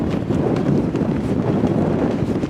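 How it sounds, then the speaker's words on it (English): Strong wind in the Scottish Highlands buffets the microphone, a loud, gusty, churning roar that stays constant with no voices. "So windy out there."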